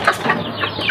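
Pet backyard chickens, including white hens, clucking at afternoon feeding, a busy cluster of soft clucks and calls near the listener with no talk.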